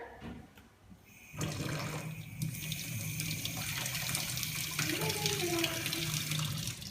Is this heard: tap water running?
yes